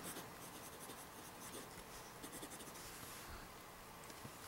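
A pencil scratches across paper in quick, uneven strokes, faint and close, with no talking.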